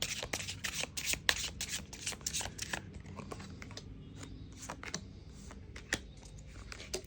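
Tarot cards shuffled by hand in quick crisp riffles, a dense flurry of close snaps that slows into scattered flicks and taps.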